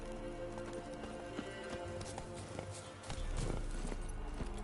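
Roach, the horse in The Witcher 3 video game, clip-clops at an even walking pace over a sustained musical drone, with the hoofbeats growing a little louder toward the end.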